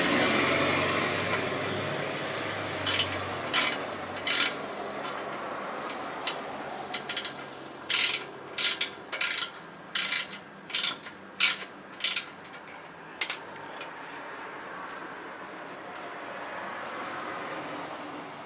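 Bolts and nuts being worked loose from the exhaust of a Yamaha Virago XV535 motorcycle: a burst of quick ratcheting clicks in the middle, with metallic handling before and after over a low background hiss, close by.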